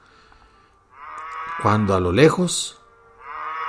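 Cattle being driven by cowboys on horseback, a loud, drawn-out moo rising in the middle, with a voice narrating before and after it.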